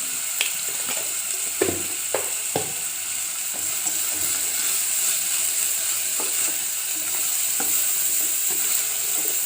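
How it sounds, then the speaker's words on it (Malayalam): Onions sauté in a pan with a close, constant sizzle, with occasional clacks of a spoon stirring. "ഉള്ളി നന്നായിട്ട് വഴണ്ടി കിട്ടണം"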